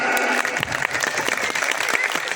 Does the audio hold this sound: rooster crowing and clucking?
no